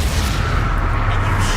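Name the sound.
Confringo fire spell explosion, Hogwarts Legacy video game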